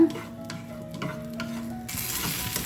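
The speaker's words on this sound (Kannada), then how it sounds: "ಬೆಳ್ಳುಳ್ಳಿ ಹಸಿ ವಾಸನೆ ಸ್ವಲ್ಪ ಹೋಗೋ ತನಕ ಫ್ರೈ ಮಾಡ್ಕೊಳ್ಳೋಣ" Garlic frying in a pan for a North Karnataka spinach and peanut dish, a close steady sizzle with a spoon stirring and scraping, growing brighter and louder toward the end, no talking.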